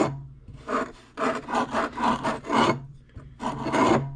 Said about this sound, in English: Now you get yourself something straight, and you just kind of skim the top off.